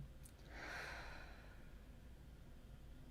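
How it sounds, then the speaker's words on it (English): One long, breathy exhale during a mindfulness breathing exercise, a soft voiced sigh rising near the start and fading away over a few seconds, quiet and close. "Verbal exhale."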